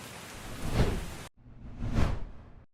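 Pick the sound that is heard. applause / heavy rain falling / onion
heavy rain falling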